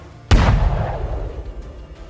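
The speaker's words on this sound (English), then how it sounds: "and an explosion." A single sharp blast from an FPV drone strike on an armored vehicle near trees, with a sudden loud onset and a long rumbling decay.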